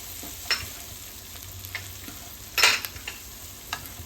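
Turmeric and chili powder stirred into hot oil with garlic in a pan over low gas for a cauliflower, green pea and potato curry: soft scattered scrapes, then one louder close sizzling burst midway.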